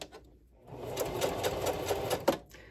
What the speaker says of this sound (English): we're just going to stitch about an eighth of an inch next to that seam